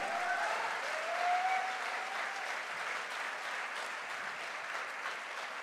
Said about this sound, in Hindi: अरे घनघोर ताली बनती है